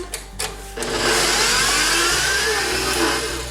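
An electric mixer starts up and whips homemade essential oil lotion, a few clicks then a loud steady whirring motor drone that holds to the end.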